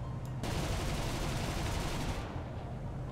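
Onboard guns of a BV 238 flying boat test fire in War Thunder, two 20 mm cannons on top and four more in the nose, a dense, continuous roaring barrage of rapid shots that stays loud throughout.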